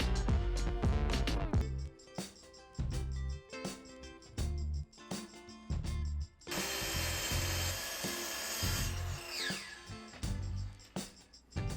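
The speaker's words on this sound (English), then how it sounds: "I use my track saw to do this as well" A track saw cuts a straight edge along the long side of wooden boards for a built-in electric fireplace, a loud, sustained whining rip that follows several short bursts of tool noise and knocks.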